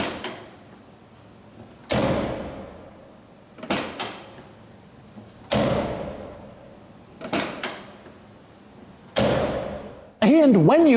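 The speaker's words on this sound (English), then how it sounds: "this car has one of the all-time greatest door opening latch sounds" Several sharp mechanical clunks of a Porsche 993 Turbo car door latch, opening and shutting in turn with short decaying rings between, ending in a louder sustained rattle.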